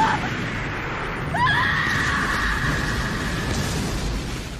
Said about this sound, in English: just listen to this girl scream